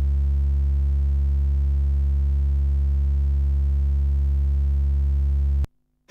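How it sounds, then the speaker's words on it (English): A steady, loud sine tone from a Serge modular synthesizer oscillator hums unchanging for several seconds, then cuts off abruptly into near silence. "output from NTO, like kind of sine wave, I'm going to show you. This is the NTO signal."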